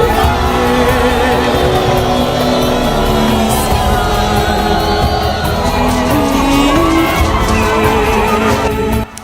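A political rally crowd at Cirunga, Kabare, cheering, whooping and shouting for Claude Nyamugabo. Many voices form a dense, continuous roar throughout, with a few louder shouts standing out.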